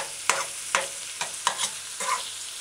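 Onions sautéing in a pan for a jerk burger: a soft background sizzle broken by five or six sharp stirring scrapes at a loose, uneven rhythm, close and with no talk.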